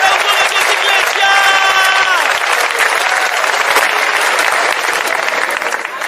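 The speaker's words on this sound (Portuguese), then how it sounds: "¡Aplausos de Dios, iglesia!" A church congregation at a Spanish- and Portuguese-language prayer service claps loudly and continuously for six seconds, a dense crowd roar with a few voices calling out over it.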